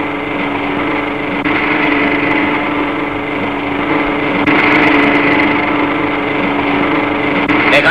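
A jeep engine runs steadily at idle in a Tamil film scene, a loud, constant droning hum that holds for several seconds with slight surges, and no clear voices over it.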